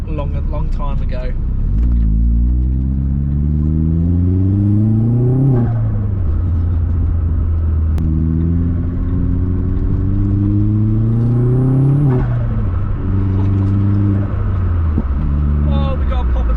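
Vauxhall Astra VXR turbo engine revving hard from inside the cabin, rising and falling through two long pulls with a steady low rumble and brief pops on the overrun, a voice talking over it.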